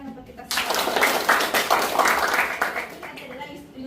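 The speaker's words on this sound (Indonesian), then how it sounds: "tepuk tangan untuk kita semua" A lecture audience claps together in a university teaching session, a burst of dense applause that starts abruptly and fades after a few seconds, with a voice over it at times.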